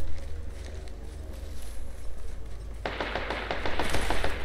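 Rapid automatic gunfire in the battle royale shooter Apex Legends: a steady rattle of shots starts partway through and keeps going over a rumbling background din.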